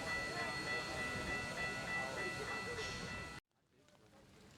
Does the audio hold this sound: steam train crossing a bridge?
yes